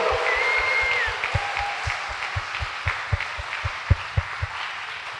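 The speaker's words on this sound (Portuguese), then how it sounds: "Dê uma salva de palmas para Ele." Applause from a church congregation during a Christmas Day Mass homily, a sustained wash of clapping with sharper individual claps standing out, fairly close and steady for several seconds, with faint sustained tones underneath.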